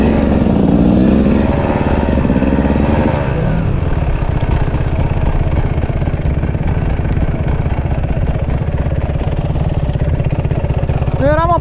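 An enduro motorcycle engine runs steadily and loudly close by on a mountain ridge trail, a continuous buzzing drone with slight revs throughout, while people talk over it.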